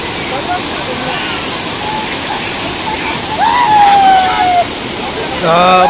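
Usgaon waterfall near Virar runs in a strong monsoon flow, a loud, close, continuous rush of water, with faint voices and brief whistle-like tones rising over it.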